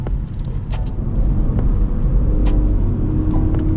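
A Corvette Stingray at a car meet pulls away, its engine a steady loud rumble that holds through the clip with a slight rise as it drives off, alongside road noise.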